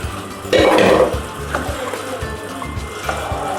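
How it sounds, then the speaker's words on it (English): Boiled dal is poured into a pot of boiling vegetables for sambar, giving a loud splashing pour followed by bubbling and light clinks of the pot and spoon. "Now pour the boiled dal into the boiling vegetables,"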